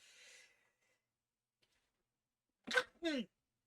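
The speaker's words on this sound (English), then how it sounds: "My turn to sneeze, I guess." A single sharp sneeze bursts out near the end after a faint breath and quiet pause.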